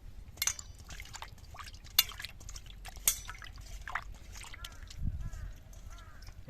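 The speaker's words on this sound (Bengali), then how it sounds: "তো মাংসটা আমরা সুন্দর করে ধুয়ে নেব।" Chicken meat is washed in water, with intermittent splashes, drips and sloshing at close range, quiet overall with a few sharper clinks.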